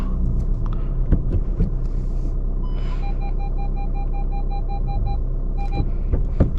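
Volkswagen Ameo diesel with manual gearbox climbing a steep hilly road, a low steady engine rumble and drone heard from inside the cabin, with a few faint beeps in the middle.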